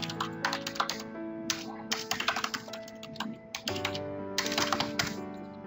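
Typing on a computer keyboard while filling in an Excel sheet, bursts of quick, close key clicks separated by short pauses, with no talking.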